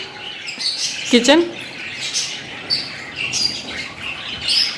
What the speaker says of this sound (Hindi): इधर जो है काफ़ी ढेर सारी चिड़ियाँ रखी हुई हैं